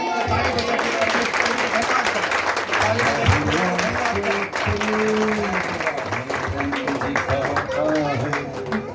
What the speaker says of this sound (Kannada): ಚಪ್ಪಾಳೆ ದೇವರಿಗೆ